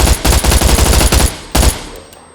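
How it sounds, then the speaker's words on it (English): Zombies in the SCUM video game pound on a door in a loud, rapid flurry of heavy thuds, then a second burst before it trails off. "And again, banging on the door."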